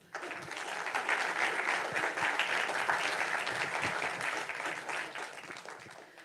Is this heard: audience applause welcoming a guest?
yes